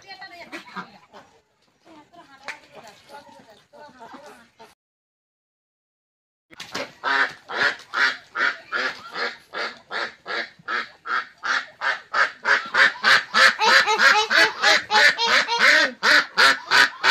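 Australian ducks at a home quack in a rapid, loud, rhythmic series that grows more insistent, close by, after a stretch of quieter scattered sounds and a pause.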